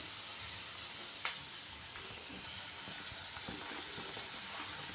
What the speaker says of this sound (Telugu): ఇప్పుడు పసుపు వేసుకోవాలి కొంచెం దీన్ని కలుపుకోవాలి కలుపుకున్నాక కొంచెం వేగనిద్దాము